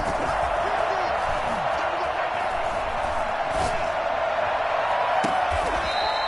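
A football stadium crowd roars steadily throughout a big play in a Chargers–Panthers game, a dense, continuous wall of cheering with a few sharper shouts and thumps rising out of it.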